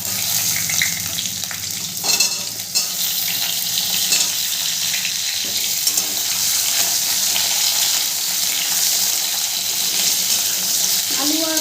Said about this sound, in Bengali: আলু আর গাজরটা খুব ভালো করে ভেজে নেব।